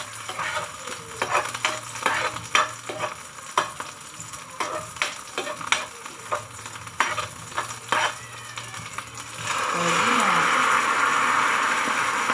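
Udon noodles with thickly sliced onions being stirred and fried in a pan, with steady sizzling, scraping stir strokes and occasional utensil clinks, the frying growing into a louder continuous sizzle near the end.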